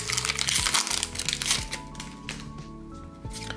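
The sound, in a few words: opening Pokémon booster card packs, wrapper crinkling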